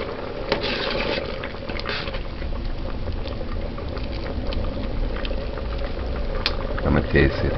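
Ital stew peas boil on high heat in a pot, a dense steady bubbling and rumbling that holds throughout, close and fairly loud, while faint speech seems to sit underneath.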